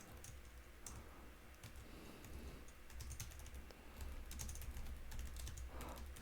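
A computer keyboard is typed on with quick, light, close clicks in short irregular bursts, faint over a steady low background hum.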